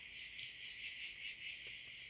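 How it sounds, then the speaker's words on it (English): Dense, steady chirping of crickets fills the night air in Delaware State Forest, faint and continuous, with an occasional soft frog-like croak underneath. "The sounds of the crickets and the birds and the frogs and all the animals."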